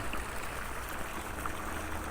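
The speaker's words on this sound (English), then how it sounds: "It's water we're pumping out of the ritual baths." Water pumped out of ancient ritual baths at a synagogue excavation runs as a small, continuous stream, a soft steady trickle and gurgle, quiet and close, with no talk.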